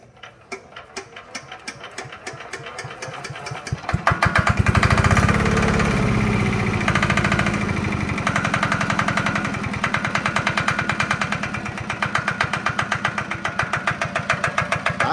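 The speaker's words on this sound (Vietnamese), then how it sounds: "em quay máy cho cô bác chị em nghe tiếng máy của nó nè" A Yanmar HA4 engine runs close up, its steady rapid knocking chug building from a lighter start into a loud, dense mechanical drone that holds for the rest of the stretch.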